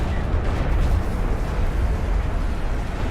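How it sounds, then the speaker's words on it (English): A siege cruiser's artillery barrage in a strategy game pounds continuously, a loud low rumble of overlapping booms and impacts with no clear gaps. "Barrage being used here from the siege cruiser."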